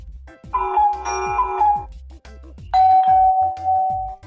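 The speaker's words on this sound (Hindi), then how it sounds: "ये तो घर पे बाहर लगी घंटी की आवाज है।" A doorbell chimes twice, melodic electronic tones ringing out clearly with a brief pause between, over some low background noise.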